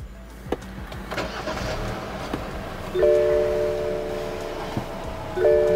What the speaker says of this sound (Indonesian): injak pedal rem, kemudian tekan tombol engine start stop